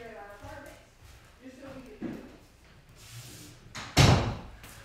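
A door is shut indoors, ending in one sharp, loud slam near the end. A person talks quietly before it.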